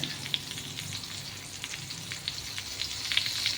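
Butter sizzling in a hot pan while beef steak cooks, a steady close frying hiss with small crackling pops throughout and no talking.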